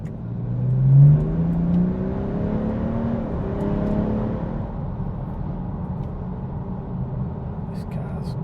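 A tuned BMW 430d diesel engine with an upgraded turbo revs up hard on kickdown and climbs quickly in pitch, then settles into a steady drone inside the cabin.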